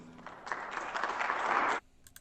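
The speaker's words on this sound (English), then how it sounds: "people are applauding" Audience at a public meeting clapping for a speaker who has just finished, a burst of dense applause lasting under two seconds that swells, then cuts off abruptly into quiet.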